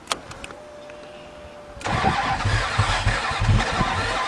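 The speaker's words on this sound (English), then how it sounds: "Let's see if it'll even start this time." A quiet hum and a few clicks, then a Ford F250 diesel truck engine cranks and catches, settling into a rough, rumbling run close by.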